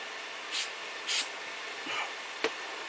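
Two quick hissing bursts of activator sprayed onto quick-drying gel glue while a hydroponic grow tower is being built, followed by faint handling noises and a small knock.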